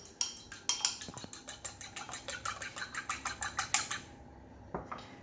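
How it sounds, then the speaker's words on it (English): An egg whisked with a fork in a large mixing bowl, about twenty quick, rhythmic metallic clinks in steady succession, close and clear, stopping near the end with a couple of final taps. "take 1 egg, crack it, lightly whisk that with a fork"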